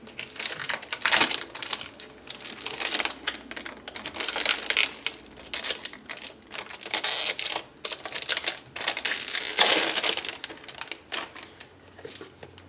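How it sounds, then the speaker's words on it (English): Plastic wrapping is pulled and crinkled off a Passion Planner daily planner at close range, a continuous busy crackling and rustling with sharp crinkly bursts. "let's get to unboxing this, well, taking it out of the plastic"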